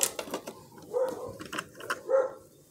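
Several barks and yips from dogs, somewhat distant, in an irregular series of short bursts with quiet gaps between.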